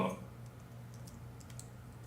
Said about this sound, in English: can you see what I'm typing?